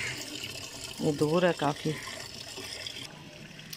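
Water running from an outdoor tap into a gallon container, a steady splashing trickle heard nearby and fairly faint while someone speaks briefly over it.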